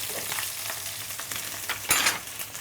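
Onions tipped into garlic already frying in a pan for chicken achari khichuri, giving a steady close sizzle with scraping stir strokes and a louder burst of crackle partway through.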